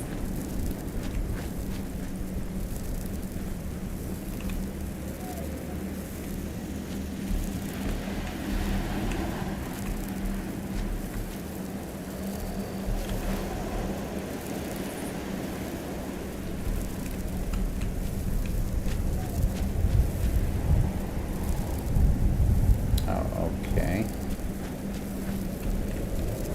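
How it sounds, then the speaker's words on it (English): Steady rain pours through a stormy night in the post-apocalyptic game Fallout 76, a continuous wash of falling water with low rumbling underneath, growing slightly heavier toward the end. "this is really a terrible storm we're in the middle of"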